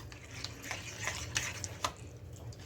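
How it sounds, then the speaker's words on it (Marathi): Flour dough is mixed with water in a bowl, giving faint, irregular soft ticks and wet clicks of stirring at close range, with no talk. "आता हे पाणी टाकून सर्व मिक्स करून घेऊया"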